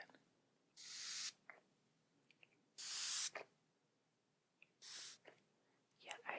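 A spray bottle gives three distinct close hissing sprays, each about half a second, separated by quiet pauses, in a soft ASMR personal-attention setting with faint small sounds between.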